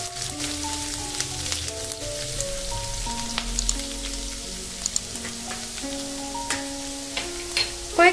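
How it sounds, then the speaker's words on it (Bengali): Chopped garlic fries in hot oil in a pan for restaurant-style mixed chow mein and is stirred around, giving a steady close crackle and hiss under tonal background music. "রসুনটাকে কয়েক সেকেন্ড তেলের মধ্যে একটু নাড়াচাড়া করে ভেজে নিচ্ছি।"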